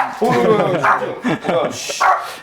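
Pet dog barking indoors, a few close, loud yips and barks mixed with whimpering, with a person talking over it.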